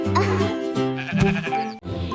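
A sheep bleats in a long, wavering cry that fills the moment, close and clear.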